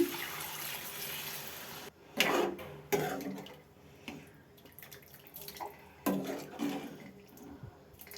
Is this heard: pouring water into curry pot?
yes